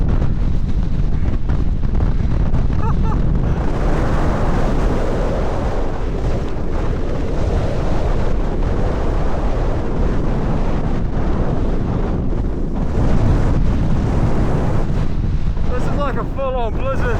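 Blizzard wind roars nonstop at an exposed winter tent campsite, a loud, constant buffeting rush with gusts battering the microphone throughout.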